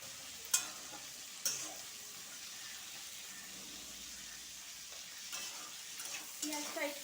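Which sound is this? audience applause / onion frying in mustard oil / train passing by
onion frying in mustard oil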